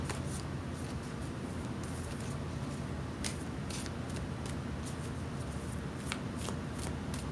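A deck of slightly sticky oracle cards is shuffled by hand, producing a rapid, continuous riffle of papery flicks and snaps, close and steady throughout.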